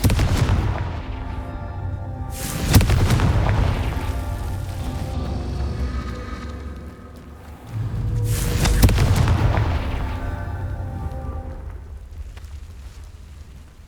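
Confringo fire blast spells bursting in Hogwarts Legacy: two loud booming explosions a few seconds apart, each a sharp crack followed by a long rumbling roar that swells and then fades.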